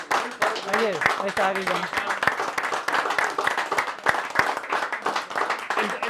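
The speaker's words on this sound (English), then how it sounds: "can I just have a wee round of applause for Sam?" A bar audience in Belfast claps in a steady wash of applause that runs the whole time, with people talking over it near the start.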